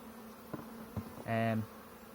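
Honeybees buzz and hum close by in a hive with drone brood, with a couple of soft knocks and one louder, sustained burst of droning buzz partway through.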